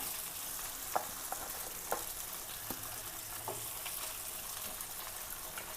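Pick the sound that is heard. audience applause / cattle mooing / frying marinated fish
frying marinated fish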